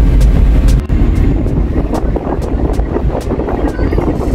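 Strong wind buffets the microphone high up on an elevated spot in Cebu, a loud continuous low roar with gusty fluctuations throughout.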